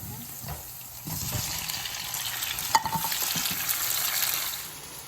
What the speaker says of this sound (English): Now the garlics are turning a little brown. I'm going to add the tomatoes.